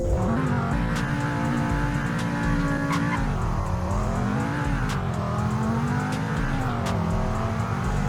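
A car engine in the Roblox game Greenville revs repeatedly, its pitch rising and falling in smooth waves over a steady idle, loud and close with no talking.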